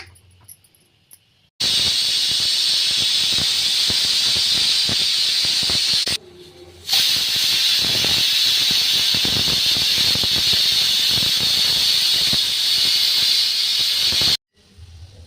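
Pressure cooker whistling loudly and steadily while cooking dal and spinach greens, a long continuous hissing squeal that breaks off briefly, resumes, then cuts out near the end; no talking.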